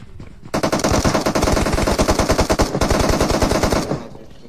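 A Thompson submachine gun fires in a video game: one long, loud, close burst of rapid, evenly spaced shots that runs for about three seconds and then stops.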